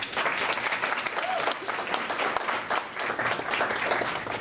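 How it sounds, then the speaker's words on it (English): A crowd at a student government inauguration applauds steadily and loudly for the executive vice president, a dense, continuous wash of many hands clapping. "Let's give her a round of applause."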